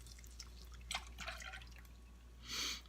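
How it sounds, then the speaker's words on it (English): Cream poured into melted butter in a pan, a soft trickling, dripping liquid sound with a brief louder splash of pouring toward the end, fairly quiet and close. "So my butter is all melted, so I'm gonna go ahead and add my cream to this."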